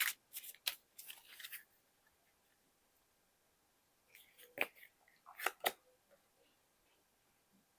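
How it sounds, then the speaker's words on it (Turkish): Tarot cards are shuffled and picked by hand, faint riffling and flicking in short bursts separated by quiet gaps, close and soft. "Bir kart daha seçelim."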